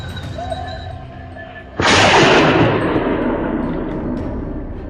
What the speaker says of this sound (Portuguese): Apertei o gatilho e o javali caiu instantaneamente.